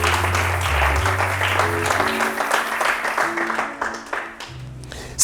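A church congregation applauds the Lord, a broad wash of clapping and crowd noise that swells and then thins, with a low hum and voices running underneath.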